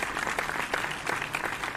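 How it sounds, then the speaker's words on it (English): A small group gives a quick patter of light applause, soft rapid hand claps blending into a continuous crackle, fairly quiet and steady, with no talking over it. "Let's do some tiny hand claps"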